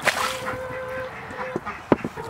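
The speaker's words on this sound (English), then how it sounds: "The ducks sure love to make a mess." Ducks quacking and honking nearby in a short burst of overlapping calls, with a few sharp clicks and bumps in the background.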